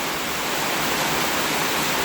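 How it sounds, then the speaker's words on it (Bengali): Heavy afternoon rain pours off a corrugated tin roof in a loud, continuous, even rush of falling water, heard close from beneath the roof's edge. "সেই টিনের চাল থেকে যে পানিটা পড়তেছে ওইটা পানিটাই দেখাচ্ছি আপনাদের"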